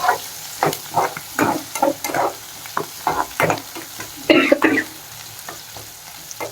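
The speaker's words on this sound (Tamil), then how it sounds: "வரமிளகாய் கருவேப்பிலை போடுங்க எல்லாத்தையும் போட்டுருங்க" Dried red chillies and curry leaves fry in hot oil for a Tamil fish curry, a crackling sizzle broken up by repeated close stirring scrapes and clanks of a spoon against the pan.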